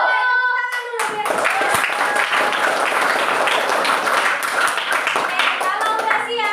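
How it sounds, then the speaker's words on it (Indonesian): Children in a classroom burst into loud, dense applause that continues steadily for several seconds, with young voices calling out over the clapping. "tepuk tangan dulu biar"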